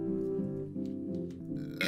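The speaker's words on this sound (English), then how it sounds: "That's a weird burp." A strange, drawn-out burp with a grunting, pig-like tone rises over music playing in the background, ending with a brief noisy burst.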